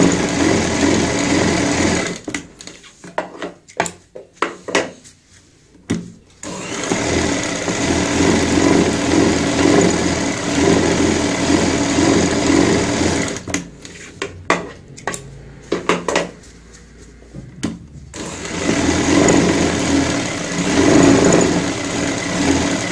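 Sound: sewing machine stitching fabric for bucket stool

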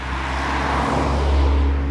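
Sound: cars passing by on the road

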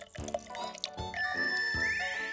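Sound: juice being poured into a glass

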